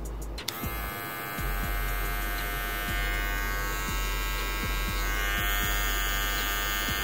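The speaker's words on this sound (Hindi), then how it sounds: "तो यहाँ से आप ये ट्रिमर की आवाज़ टेस्टिंग कर सकते हैं" A small Nova NHC-3662 corded electric hair trimmer switches on and buzzes steadily up close, a constant high-pitched hum with faint rhythmic ticks.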